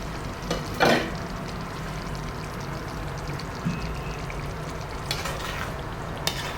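Paneer chalna being stirred lightly in a frying pan: a steady low sizzle runs throughout, with a few soft scraping and clinking strokes of the spoon standing out near the start and end.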